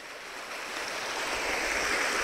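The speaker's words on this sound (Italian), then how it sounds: "Questo è il torrente dove faccio io il bagno." Mountain stream near a dam rushes in a steady, broadband wash of flowing water, close and fairly loud, swelling slightly over a couple of seconds with no voices.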